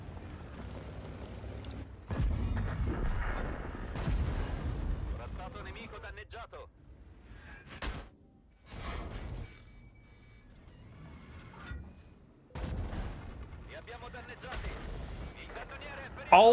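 Heavy booming shots and explosions from a tank video game featuring the CC-1 Mk. 2 tier IX tank, several loud blasts spread across the stretch with quieter mechanical gaps between, and someone talking over the action.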